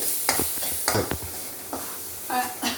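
Crushed ginger frying in hot oil in a pan sizzles softly under several close scrapes and taps of a spoon against the metal.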